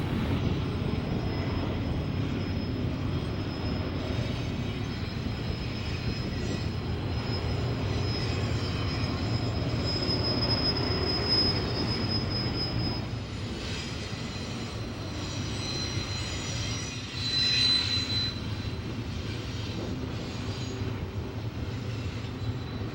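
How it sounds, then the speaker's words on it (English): A BNSF freight train with five locomotives hauls container loads up Cajon Pass, a continuous low engine rumble with a faint high whine and brief squeals, steady and fairly close. "These 5 engines are heading for the summit with loads of containers from around the world."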